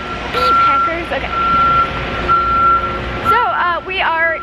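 Truck reversing beeps ring out in steady, evenly spaced electronic tones at a convention venue being set up, loud and nearby, while people talk and other chirping tones overlap near the end.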